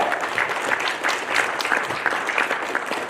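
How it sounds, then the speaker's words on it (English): An indoor audience at a road show event in Haridwar claps steadily, a dense and lively round of applause heard up close with no break. "So clap for yourself."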